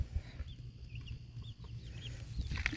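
Young chicks peep and cluck outside near their coop on a family farm. Their faint, high chirps are scattered and distant over a low outdoor rumble, and no one speaks.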